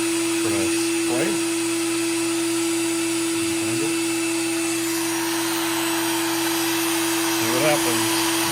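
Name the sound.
CNC router engraving a double color sheet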